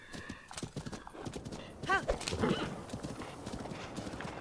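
A horse in Zelda: Breath of the Wild clip-clops steadily on a rocky moor and lets out a clear whinny partway through, with a voice talking over the hoofbeats.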